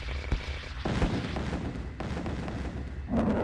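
An EM pulse cannon firing in a strategy video game: a few heavy, booming shots over a constant rumbling battle background, fairly loud, with no voices.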